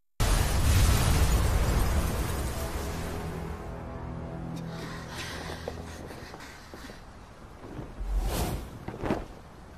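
Explosion effect in an animated martial-arts series, set on a dragon island: a loud, broad boom opens and rumbles away over several seconds, followed by a few sharper bursts near the end, with no speech.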